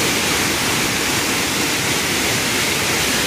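Sanaghagra waterfall in monsoon spate pours with a loud, constant broadband roar of rushing water, dense and unbroken with no voices.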